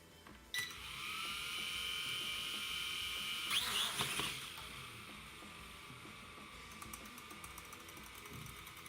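Small E58 quadcopter motors spinning stiffly, a thin high-pitched whine starting abruptly, wavering briefly midway, then continuing faint and close with light ticking toward the end.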